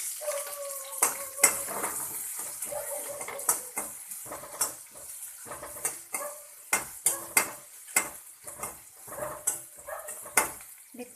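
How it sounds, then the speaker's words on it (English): Chopped onion tumbling into jeera frying in a pan, with a soft background sizzle broken by repeated sharp clinks and scrapes of a spoon stirring against the metal pan. "Now I am adding one chopped onion."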